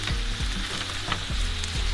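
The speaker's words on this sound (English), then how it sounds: "And I'm gonna go ahead and put in my onions." Onions and meat for a meat pie filling sizzle steadily in a pan, a close, continuous crackling fry with no talking.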